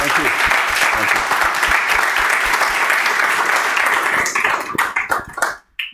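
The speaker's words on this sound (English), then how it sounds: "And a big applause, please." Audience applause at a speaking event, a dense sustained burst of clapping from a crowd that thins into scattered claps and fades out at the end.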